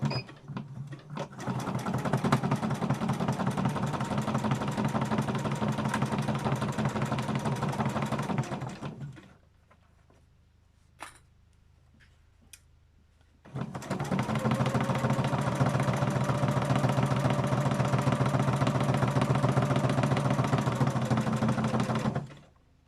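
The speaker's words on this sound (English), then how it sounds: "It's actually stitching it a lot quieter than it did when I was free motioning, isn't it?" A sewing machine stitches through a canvas pouch in two long, steady, loud runs of about eight seconds each, with a short quiet pause between them, and no talking.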